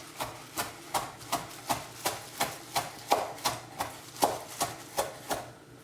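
A knife chops through Lebanese tabbouleh ingredients on a board with a steady run of about fourteen crisp, close, evenly spaced strikes, and no talking.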